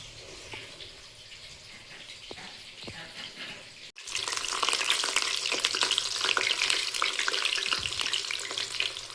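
Marinated chicken pieces frying in hot oil for chili chicken, a quieter sizzle with occasional clinks that suddenly swells into a loud, dense crackling sputter after a brief gap.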